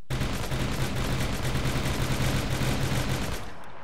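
A Minecraft mod AK-47 rifle fires a sustained loud automatic burst of rapid, evenly spaced shots for over three seconds before cutting off, with no voices.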